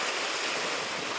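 Rough sea off Jumunjin, heard from a fishing boat at sunrise, makes a steady broadband wash of surf and wind, loud and continuous with no talking.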